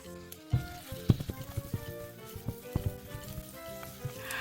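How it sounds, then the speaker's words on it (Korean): Onions frying in a hot hotpot pan with a spoonful each of cooking oil and perilla oil, producing soft irregular crackles and pops over a quiet sizzle, with no talking. "전골 냄비에 식용유 한 큰술, 들기름 한 큰술 넣고 양파 먼저 넣어서 볶아줍니다"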